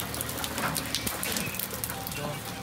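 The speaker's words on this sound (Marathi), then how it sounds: "इथे पाऊसच इतका पडतोय" Heavy monsoon rain pours down continuously during the Ganpati festival season, a dense, close hiss of drops striking surfaces with no pause.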